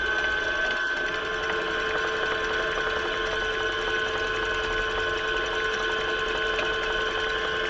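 Homemade wind generator motor spins at close to 900 rpm, giving a steady, loud mechanical whine with sustained tonal hum and no change in speed throughout.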